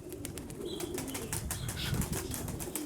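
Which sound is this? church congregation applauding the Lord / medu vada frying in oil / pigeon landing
pigeon landing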